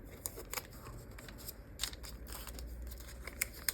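Scissors snip through paper covered with washi tape in a quiet run of short, crisp cuts, several close together, with soft paper rustling between them.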